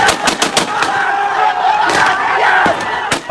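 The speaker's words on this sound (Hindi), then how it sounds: "बांग्लादेशी सेना गोलियां चला रही है" Rapid bursts of army gunfire crack repeatedly over a loud, roaring crowd of shouting protesters in Bangladesh, dense and chaotic throughout.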